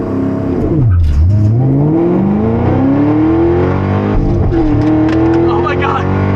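A 650-horsepower Chevrolet Camaro ZL1 launches hard from a standstill to 60 mph, engine revving up through rising gear pulls with a shift dip, loud and close from inside the car, with a voice speaking briefly.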